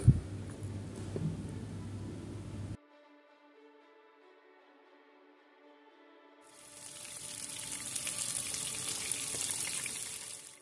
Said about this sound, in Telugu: ముందుగా మనం మ్యారినేటెడ్ చేసుకొని పెట్టుకున్న ఫిష్ని ఆయిల్లో వేసి ఫ్రై చేసుకోవాలి